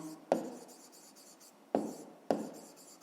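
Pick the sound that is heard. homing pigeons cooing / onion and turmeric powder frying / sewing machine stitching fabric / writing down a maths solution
writing down a maths solution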